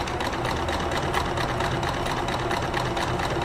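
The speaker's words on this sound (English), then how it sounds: "Letter G is a regular blind stitch" Necchi 525FA sewing machine running a regular blind stitch, a fast, even mechanical chatter of needle strokes that stays loud and continuous throughout with no talking.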